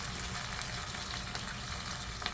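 Onions frying in a pan just after water is added, giving a steady, dense sizzle with no pauses and no voices.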